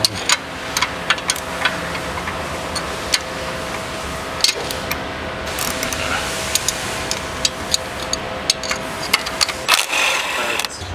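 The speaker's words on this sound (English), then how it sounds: "Ratchet spanner's your friend in these tight spots." A ratchet spanner clicks in quick, uneven bursts while loosening bolts during a diff drop install under a Toyota Prado or FJ Cruiser. The sharp ticks sit over a steady mechanical hum.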